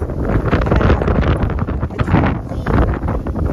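Heavy wind buffeting a microphone, a loud continuous roar with gusty swells throughout.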